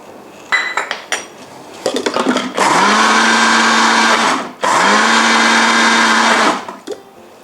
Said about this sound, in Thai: แล้วปั่นให้ทุกอย่างละเอียดนะคะ